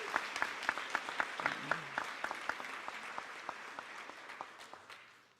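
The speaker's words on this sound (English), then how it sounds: "You can give them another round of applause." Audience applause fills a school auditorium at an eighth grade recognition ceremony, a steady patter of many hands clapping with sharp individual claps standing out, gradually tapering off toward the end.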